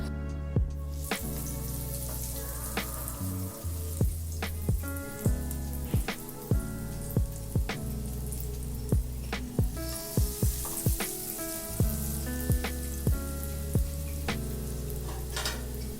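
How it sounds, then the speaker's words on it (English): Homemade cheese balls frying in oil on medium-low heat make a continuous crackling sizzle, with many sharp pops and taps spread through it and a low kitchen hum underneath; nobody talks. "we are going to always like fry on medium-low heat"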